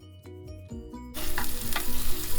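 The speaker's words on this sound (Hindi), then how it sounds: "इन सबको चूल्हे पे चढ़ा देंगे और भून लेंगे ताकि इन पे अच्छा लाइट ब्राउन कलर आ जाए" Black pepper, cumin and cloves roast in a pan on the stove. Soft music plays at first, then a loud, close, crackling sizzle takes over and continues steadily.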